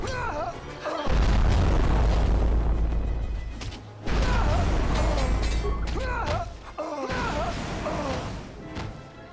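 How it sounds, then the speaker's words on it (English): Repeated heavy explosions in the video game Star Wars KOTOR 2, deep booming blasts in three long loud bursts separated by brief gaps, layered with crackling debris and game effects. "She ate all of those explosions."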